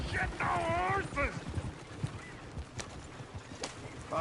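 Horses in the video game Red Dead Redemption 2 neigh briefly at the start, followed by soft hoof clip-clops and game noise under a player's talk.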